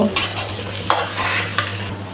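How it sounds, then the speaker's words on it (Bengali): Rice and lentils dry-fry in a pan while being stirred, giving a few quick scraping strokes over a low continuous sizzle, close up with no voices. "এবার চাল ডাল ভালোভাবে বেজে নেব"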